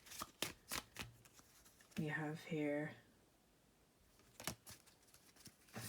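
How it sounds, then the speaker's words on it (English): A deck of cards being shuffled, with quick crisp riffling bursts spread through the clip and a short stretch of talking in the middle. "let's get one more shuffle"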